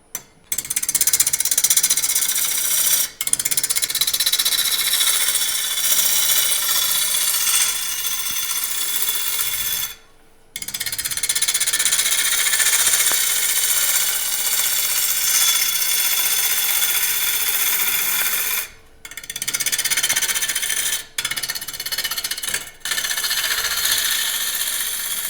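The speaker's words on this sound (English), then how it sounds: "So now we'll be able to make some shavings." A wood lathe turns a dry bowl as the tool cuts shavings, a loud continuous gritty scraping and rushing roar broken by several short pauses where the cutting stops, with no voices.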